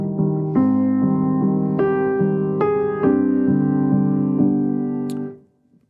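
A sustained keyboard-like tone steps down through a slow chromatic descending lament bass line from a minor chord, each note held about half a second before fading out at the end.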